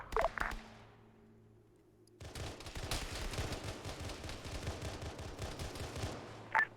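Dense bursts of gunfire crackle through a night patrol in the Arma OPTRE game, with rapid overlapping shots rolling on continuously after a quiet opening.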